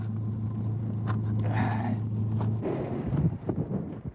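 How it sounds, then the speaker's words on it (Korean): A car engine turning over and idling, stuck in desert sand, a steady low rumble with brief higher revving bursts midway, then uneven knocking noises near the end, no talking. "다시 시동을 걸어보는데 차가 좀처럼 움직이지 않는다"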